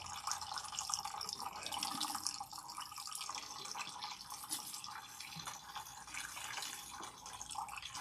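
Running water rinsing a Bendera deep protein treatment out of hair at a salon sink, a steady soft splashing stream with dripping, continuous and fairly faint throughout.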